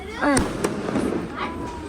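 Firecrackers go off in a couple of sharp, loud bangs close by at a Tulsi Vivah celebration, while people chatter in the background.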